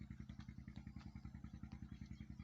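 A diesel engine pumping irrigation water into a farm field beside a riverbank chugs in a fast, steady rhythm. The low, loud thumping comes from close by, with a light metallic clatter on top and no talking.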